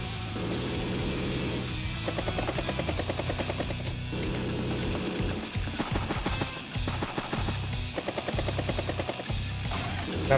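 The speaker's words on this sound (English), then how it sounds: "Battlecopter." Battlecopter helicopter unit in the strategy video game Advance Wars: Days of Ruin, a steady loud rotor chop and buzzing drone running continuously with brief dips, no voices over it.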